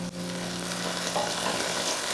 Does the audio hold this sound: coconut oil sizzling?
yes